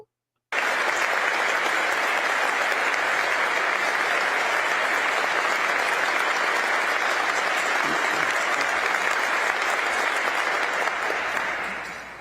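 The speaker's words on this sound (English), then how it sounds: "They clap longer for you." Sustained audience applause fills a hall, a dense, steady wash of clapping at full strength for about eleven seconds before tapering slightly at the end, with no talking over it.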